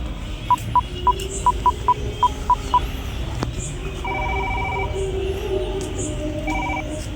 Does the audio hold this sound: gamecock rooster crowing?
no